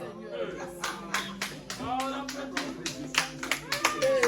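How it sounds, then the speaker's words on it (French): Rhythmic clapping from a congregation in a French-speaking church service, steady and lively, mixed with voices talking and responding over the claps. "C'est ça que vous applaudissez."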